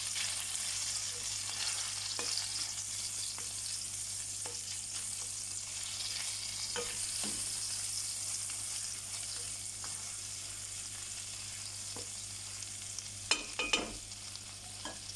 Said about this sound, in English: 3 dried chilies that have been chopped up. I do small ones. 3 cloves of garlic. And we're going to let this fry.